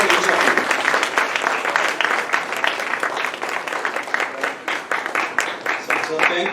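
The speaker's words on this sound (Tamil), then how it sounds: "கரகோஷம், பிக் ஹேண்ட்." At a 2024 Tamil annual meetup, a big, close, lively round of hand clapping thanks the volunteers, bursting loudly at first and continuing in rapid, uneven waves.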